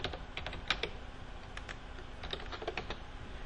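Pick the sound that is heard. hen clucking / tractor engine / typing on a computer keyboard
typing on a computer keyboard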